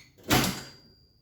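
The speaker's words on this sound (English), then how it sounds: "this drawer is annoying" A single short sliding rush, like a drawer being pushed or pulled, then a fading rattle into quiet.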